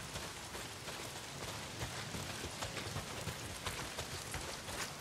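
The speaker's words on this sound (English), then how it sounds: "A lot of it's pissing down rain." Heavy rain falls steadily in the Days Gone video game as a dense, even hiss of drops, with no talk.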